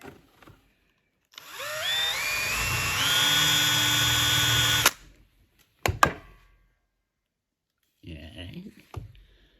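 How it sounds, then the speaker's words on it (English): Power drill boring into a fishing lure, its whine spinning up in pitch and holding for about three seconds before stopping, followed by a few sharp clicks and faint handling noise. "once I get it drilled, we'll find out"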